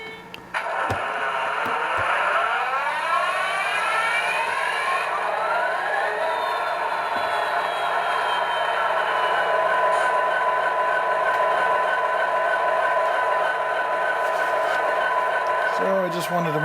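An Athearn Genesis SD90MAC model locomotive with a Tsunami 2 sound decoder starts up on the track, its diesel engine sound winding up and settling into a steady loud drone with a tonal horn-like whine.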